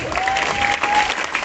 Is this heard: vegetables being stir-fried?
no